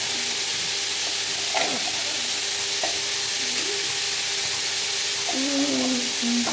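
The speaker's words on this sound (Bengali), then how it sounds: "আর এটা ভাজা ভাজা একদম ভালো করে ভাজবো" Food frying in a hot pan at home crackles in a steady, close sizzle, with occasional scrapes of stirring throughout and no talk.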